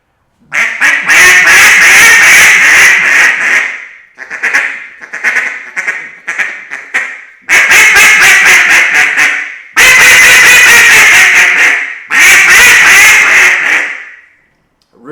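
A duck call imitating a mallard hen: loud, raspy quacking in repeated bursts, long runs and shorter choppy sequences, close and alone.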